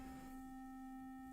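A synth arpeggio run through a liquid-sounding, LFO-modulated effect produces steady bright tones with a watery shimmer, playing alone at a constant level.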